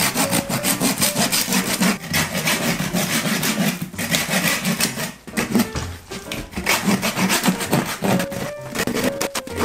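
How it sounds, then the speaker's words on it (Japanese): A handsaw rasps steadily back and forth through the rib bone of a crocodile over 100 kg, rhythmic strokes close by, with brief pauses between bursts of cutting. "ここ繋がってるんでノコギリで切っていきましょう。"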